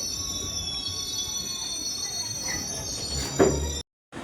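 Passenger train at Miryalaguda station, a steady rumbling railcar drone with high electric whine and faint wheel squeal, a brief louder knock near the end, then a sudden cutoff.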